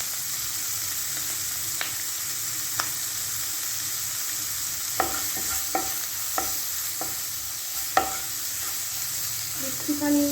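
Onion and capsicum fry briefly in a pan with a steady soft sizzle, punctuated by repeated sharp clicks of a spatula stirring and scraping, close by.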